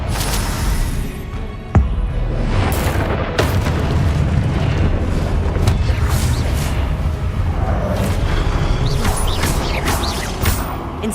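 Heavy booming spell blasts and explosions from the Confringo curse in Hogwarts Legacy, a dense, continuous loud rumble punctuated by sharp cracks and whooshes, with no talking.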